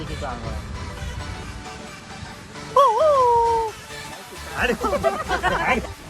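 Standing on a busy Goa street, a man imitates a dog barking, giving a short yelping howl that bends up and down, then a burst of quick yips, all over a steady crowd babble and street noise.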